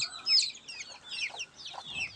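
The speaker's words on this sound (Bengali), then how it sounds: "অলরেডি মোরগ নিয়ে নিলাম" A rooster clucking in short, soft bursts, several quick throaty calls close by in a quiet setting.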